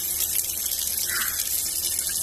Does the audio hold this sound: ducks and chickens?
no